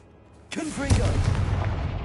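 Confringo explosive spell cast in Hogwarts Legacy, a sudden loud blast about halfway in followed by a rumbling burst and crackling decay that lasts to the end.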